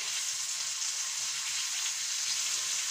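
A burger sizzles and fries steadily in a pan while being basted with a little butter for a croque-burger. The hiss is loud, close and continuous, with no talk.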